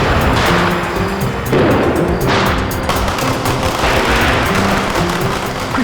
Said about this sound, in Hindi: आओ ना, पटाखे जलाते हैं